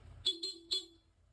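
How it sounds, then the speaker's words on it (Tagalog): A stock car horn gives three short nearby toots in quick succession, the bursts clipped and evenly spaced, then stops. "Stock horn."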